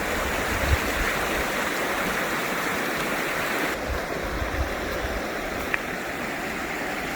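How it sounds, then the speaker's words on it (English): Beside the Sheep River on a waterfall trail in Kananaskis, Alberta, the river flows in a steady, close rushing wash of water that continues unbroken throughout. "Well, we are right beside the river right now."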